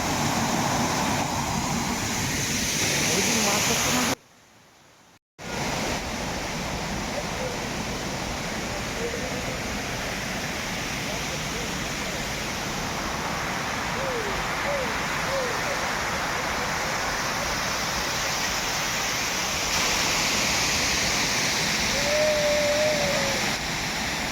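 A hidden waterfall, Barati Rao near Ramnagar in Uttarakhand, roars with a steady broadband rush that fills the whole scene, broken by a brief dropout, with faint bird chirps and other outdoor sounds on top.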